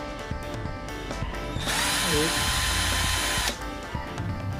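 Mitsushi cordless drill driver, switched to its low speed setting, whirs steadily for about two seconds in the middle, loud and close, with quieter handling noise before and after.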